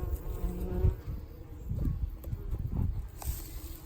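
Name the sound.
bees buzzing around farm beehives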